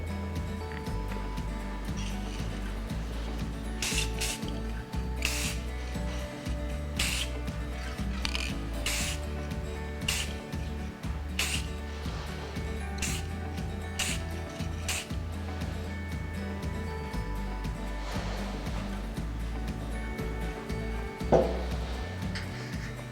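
Rust-Oleum Mirror Effect or Krylon Looking Glass spray paint hisses from an aerosol can in a series of short bursts, close by and fairly soft over a humming background, without talk.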